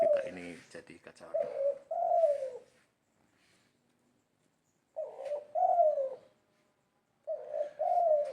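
A spotted dove (tekukur) coos close by in two- and three-note phrases, repeated in bursts separated by quiet pauses.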